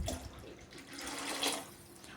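Water being poured into a thick ground peanut paste for North Karnataka peanut rasam, a soft continuous splashing and trickling that is fairly quiet and steady, with no talk.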